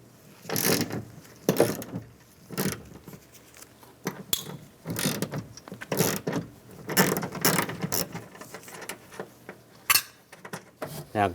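A hand ratchet with a 10mm socket backs bolts out of a 2015-2020 GMC Yukon door, giving bursts of rapid close clicking in several separate runs with short pauses between them.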